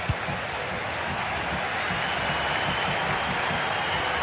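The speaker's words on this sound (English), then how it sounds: "Well, just listen to this crowd." A stadium crowd in a football video game roars and applauds steadily, a loud, broad, continuous wash of cheering and clapping with no distinct voices.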